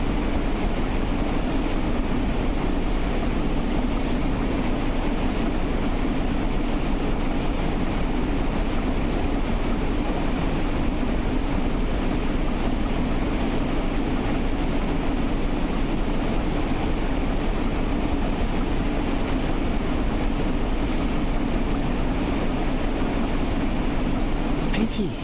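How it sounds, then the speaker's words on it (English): Flying Scotsman steam locomotive in Train Sim World, running fast and accelerating downhill around 80 mph; a steady, dense rumble of wheels and exhaust continues throughout without clear separate beats. "Listen to that chuff change as we get faster."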